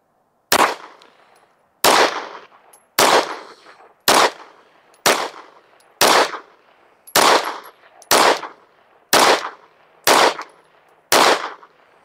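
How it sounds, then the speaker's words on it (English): Ten gunshots fired at a target in a steady, evenly spaced string about one second apart, each a sharp, loud, close crack with a short decaying ring and no talking. "let's shoot a group at the middle right target"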